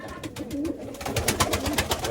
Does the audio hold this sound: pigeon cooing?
yes